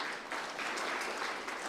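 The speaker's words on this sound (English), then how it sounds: "we can give that a round of applause" A short burst of audience applause at a national research excellence awards ceremony, dense and fairly soft, lasting under two seconds.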